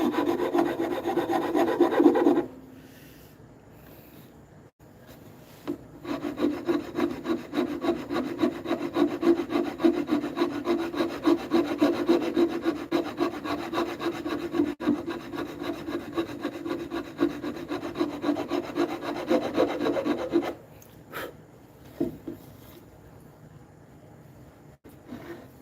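A rasp scrapes along a wooden cane being carved, in long continuous rubbing passes that run close and steady, with a brief pause near the start and a few isolated scrapes at the end.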